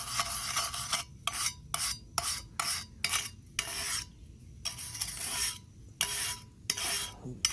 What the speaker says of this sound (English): Step one is take a wire brush and just kind of